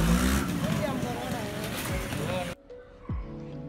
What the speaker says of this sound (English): the mechanic will take it out for a spin now